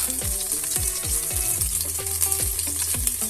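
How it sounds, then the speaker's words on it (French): Sausages sauté in oil in a Lidl multicooker pot, a close, loud sizzle with repeated pops and spatters in an uneven rhythm across a few seconds. "Maintenant, je vais sauter les saucisses."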